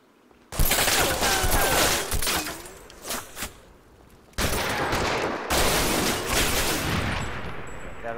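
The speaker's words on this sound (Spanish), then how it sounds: "que ha habido disparos" Gunfire in a WWII strategy game: sudden bursts of rapid shots and rattling volleys, loud and close, broken by a brief lull before another sustained barrage.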